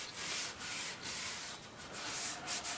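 Steady cloth rubbing of boiled linseed oil onto a wooden tool chest, a continuous close swishing scrub with slight rhythmic strokes and no talking.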